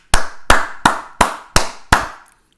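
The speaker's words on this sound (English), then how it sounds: "Let's clap it up for Nick Nurse." Six slow, evenly spaced hand claps ring out sharply and close by, one person clapping alone without any crowd or talking.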